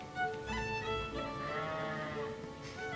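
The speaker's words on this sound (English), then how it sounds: "The sheep agrees." A sheep bleats with a sustained, wavering call lasting a few seconds, clear and fairly close, with no talk over it.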